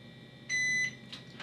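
A Kaer gun safe keypad gives one clear electronic beep of about a third of a second, followed by a couple of soft clicks in a quiet room.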